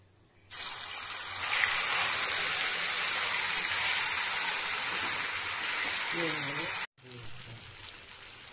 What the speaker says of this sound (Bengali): এবার এই তেলেতেই চিকেনটাকে ম্যারিনেট করে রাখা চিকেনটাকে আমি ফ্রাই করে নিচ্ছি ভালো করে